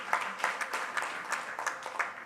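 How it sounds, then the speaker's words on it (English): Applause from an audience in a parliamentary chamber during a World Parliament Day inauguration, a moderately quiet patter of clapping with a few louder bursts across a couple of seconds. "Please give him a round of applause."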